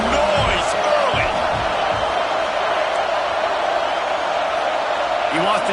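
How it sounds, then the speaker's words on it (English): Stadium crowd at a college football game, a broad continuous roar of fans filling the space at steady loudness throughout, with a commentator's voice faintly mixed in. "This crowd bringing the energy and noise early."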